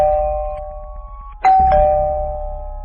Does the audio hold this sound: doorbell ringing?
yes